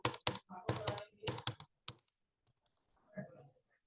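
Computer keyboard keys clicked in a quick cluster of close, crisp taps, then a few scattered presses such as the Enter key, with a faint murmur near the end while working in Microsoft Excel.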